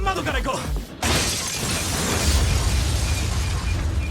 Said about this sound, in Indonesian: Kafka tak sengaja menghancurkan bukan hanya jendela, tapi tembok-temboknya juga hancur